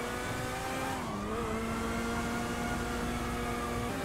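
A car engine revving hard and accelerating in a Spain RP roleplay video game, with a steady high whine of rising engine tones and no voices over it.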